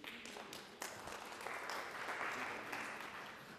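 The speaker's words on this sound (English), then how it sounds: "Let's clap for Silicon Oasis." An audience at a company innovation awareness session breaks into dense, steady applause that fills the room and fades slightly toward the end, no talk over it.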